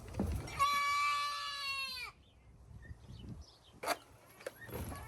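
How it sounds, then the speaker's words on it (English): A goat that has just tripped gives one long, wavering panicked bleat, loud and close, then a quieter stretch of shuffling with a few sharp knocks. "This goat started panicking because he tripped and almost fell"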